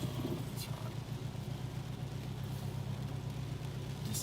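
Car engine idling roughly, a low uneven rumble with a steady pulsing throb, faint and continuous inside the cabin, likened to a Subaru WRX and prone to not running properly.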